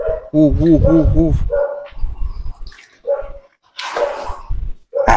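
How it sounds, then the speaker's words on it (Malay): A dog lets out a burst of high, yelping barks, then shorter yips and whimpers with gaps between, loud and close. "Bunyi anjing je."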